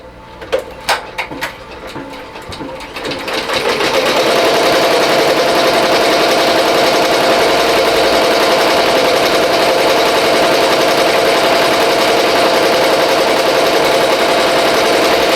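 A BAI Mirror 1501 embroidery machine sews a bean stitch outline around a starfish design on a T-shirt; a few clicks open before the needle settles into a loud, continuous, fast mechanical chatter and whirr.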